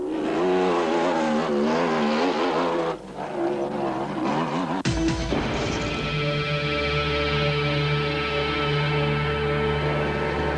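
Racing quad bikes, including a Polaris, roar loudly through a desert race among backmarker motorcycles, with engines revving and climbing in pitch, a sharp passing burst midway, then a steady droning engine tone.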